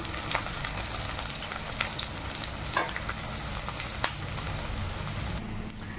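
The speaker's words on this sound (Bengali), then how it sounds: "পেঁয়াজের সঙ্গে সঙ্গে আমি আলুটাও ভেজে নিচ্ছি।" Onion and potato sizzle steadily in hot oil, a soft continuous frying crackle with occasional brief pops and stirring clicks, close and fairly quiet, no talk.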